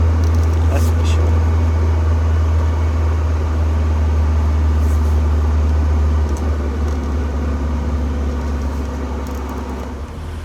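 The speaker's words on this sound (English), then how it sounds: "Without the seat, the car is a lot louder on the back." A car driven with its back seat removed gives a loud, steady low-frequency road rumble and drone inside the cabin, constant throughout and tapering slightly at the end.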